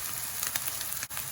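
Bolognese sauce frying in a pan, popping and sizzling steadily with a dense, continuous crackle and a few sharper pops, close and fairly quiet, no voices.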